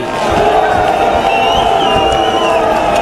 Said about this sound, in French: À son arrivée sur la promenade des Anglais, le Premier ministre est conspué.